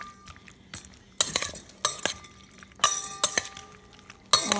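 Bowtie pasta is stirred into a wet mixture in a bowl, with repeated bright clinks and scrapes of a utensil against the dish in irregular bursts, close by.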